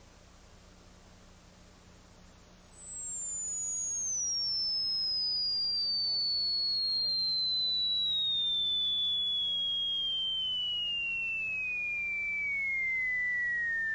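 A pure test tone played from a CD sweeps smoothly downward from very high to lower pitch over about fourteen seconds, a steady, clean whistle with no other sounds.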